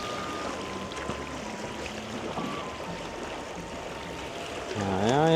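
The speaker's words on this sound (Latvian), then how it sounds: "Nu, tāda redz Adīgas upe tagad pilnūdeņaina." High, fast-flowing water of the Adige river in Verona, a steady broadband rush close by, with a low hum running underneath and a louder swell near the end.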